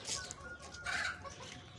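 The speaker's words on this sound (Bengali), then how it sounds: "আরও যে মুরগিগুলো আছে দেখেন তারা কীভাবে ঘাস খাওয়ার জন্য ছুটে আসে" Chickens cluck as they rush toward grass being fed to them, giving a few short, faint, close calls over a quiet farmyard background.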